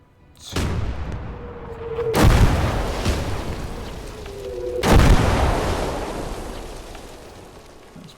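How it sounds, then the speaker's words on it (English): Artillery barrage in a war video game: two heavy booming impacts a few seconds apart, each with a whistling lead-in and a long rumbling decay, loud and close. "Okay, let's get the artillery in."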